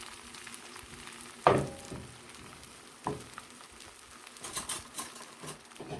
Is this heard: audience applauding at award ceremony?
no